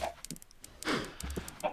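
Chickens in the Minecraft modpack FTB Agrarian Skies give a quick run of short, close clucks and squawks, clear and alone with no talk.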